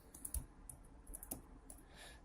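Computer keyboard keys tap in a quiet, sparse run of clicks, faint and close, while typing a boot order command.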